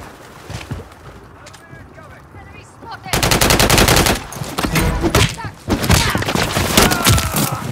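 Call of Duty MW3 gunfire rattles in sustained automatic bursts. Scattered shots start things off, then dense machine-gun volleys break out and keep going loud and near, with brief gaps between the bursts.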